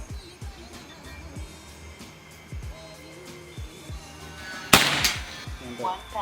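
A sharp air rifle shot cracks out once amid quiet background clicks and low rumble, followed by a faint metallic ring.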